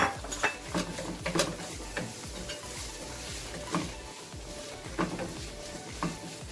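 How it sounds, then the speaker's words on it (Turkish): About 300 grams of fatty minced meat sizzles in a pan with sautéed onions while a utensil scrapes and stirs it in repeated knocks and scrapes, close and fairly quiet, with no talk. "Şimdi 300 gram kadar kıymam var. Kıymamı da ekledim."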